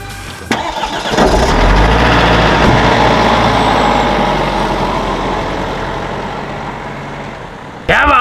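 A rear-wheel-drive camper van climbing a steep mountain track in Sardinia, its engine droning loudly and steadily under strain at close range, with a sharp starting thump and a bump near the end.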